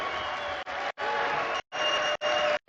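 A darts crowd at a European Matchplay match roars on its feet, a dense sustained cheer broken by several abrupt cuts over under three seconds.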